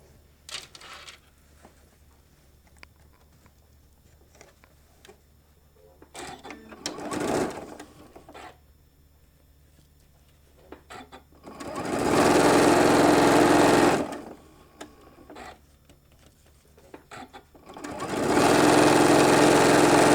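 A sewing machine joins quilting strip sets for a shoulder bag, running in two long loud bursts after quieter handling noises and a brief short run earlier.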